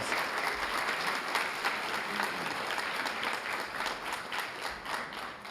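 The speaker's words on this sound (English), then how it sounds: "So give the entire staff of this Regency Manor a round of applause." Applause from the audience at a police department annual awards ceremony, held at a banquet hall. A full, steady round of clapping from a large crowd fills the room and holds evenly throughout, with no voices standing out above it.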